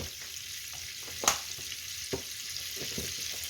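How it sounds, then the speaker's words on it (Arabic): Two spoons of oil and two spoons of butter melting together in a pan for a lasagna, a low steady sizzle with a couple of faint clinks from a utensil, quiet and close. "هنزل هنا بمعلقتين من الزيت، تمام كده، وعليهم معلقتين من الزبده بالشكل الجميل ده كده، واسيبهم يسيحوا مع بعض"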